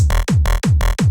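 A thick, buzzy synthesizer bass pulses under four punchy electronic kick thumps in a quick, steady rhythm, loud and up front.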